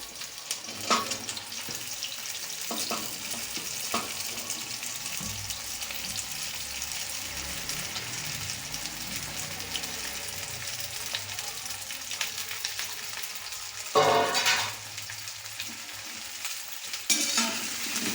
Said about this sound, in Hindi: गर्म है, अब इसमें ऐड करेंगे भिंडियाँ।